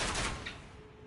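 Crossbow shots fired at enemies in the video game Elden Ring, a dense burst of sharp reports at the start that fades into a softer rumbling tail.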